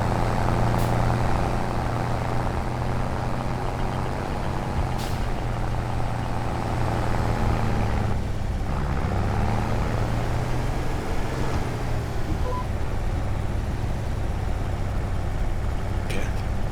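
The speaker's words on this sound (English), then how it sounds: "Listen to the engine now." A truck engine drones steadily while driving down a road, a constant low rumble with a sustained hum that dips briefly midway, with faint talk over it.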